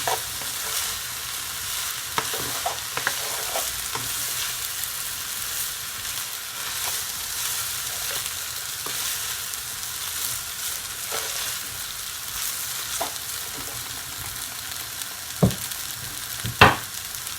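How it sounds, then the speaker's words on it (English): Callaloo saltfish fried rice over high heat in a pan, a loud unbroken sizzle with repeated spatula scrapes and taps, a few sharper knocks near the end. "you're just gonna leave it, guys, on a high heat and just keep stirring it"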